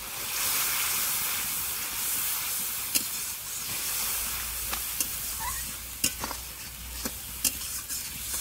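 Spiced masala with salt and turmeric sautéing in a pan for chitol fish tel jhal, a steady close sizzle with scattered sharp clicks of a spoon stirring against the pan.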